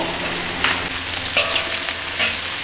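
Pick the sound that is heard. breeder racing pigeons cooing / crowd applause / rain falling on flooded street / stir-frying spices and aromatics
stir-frying spices and aromatics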